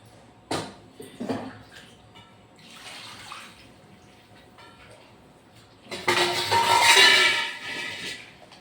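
Bitter gourds are washed in a vessel of water in a home kitchen: a few sharp splashes and clunks, a quiet swirl, then a louder sustained sloshing rush near the end.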